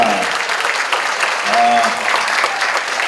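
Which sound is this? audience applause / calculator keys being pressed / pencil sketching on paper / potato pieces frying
audience applause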